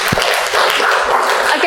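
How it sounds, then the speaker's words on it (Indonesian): Brief classroom applause for a student, a dense burst of many hands clapping together at close range throughout. "Bisa beri tepuk tangan untuk Mbak Esa"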